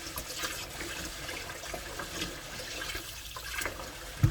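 Water rinsing glutinous rice for makgeolli, a continuous splashing and trickling with soft swishes of grain stirred in water. A louder splash comes at the very end.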